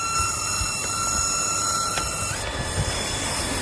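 A small 1 HP electric water pump runs nearby with a constant whine and hiss, its tone shifting noticeably partway through as its valve is opened and its current draw drops from 2.8 to 0.9 amps.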